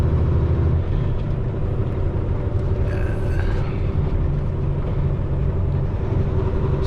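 An 18-wheeler's engine drones steadily on a downgrade as the driver splits a gear, a continuous loud low rumble with a brief shift in tone midway.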